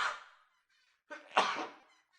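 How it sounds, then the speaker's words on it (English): A person sneezes close by: a short breath is drawn in, then comes a sharp, loud burst that trails off, with otherwise quiet surroundings. "Sneezed."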